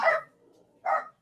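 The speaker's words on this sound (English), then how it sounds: "All the dogs are barking." Two dogs indoors at home bark, giving two short, fairly near barks about a second apart with a quiet gap between them.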